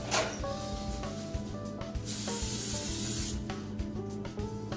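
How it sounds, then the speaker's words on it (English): Butter flavored cooking spray hisses onto a pan in a couple of close bursts, one long and steady, over a kitchen background with faint tones and no talk. "We're gonna be using the butter flavored spray that expires in June."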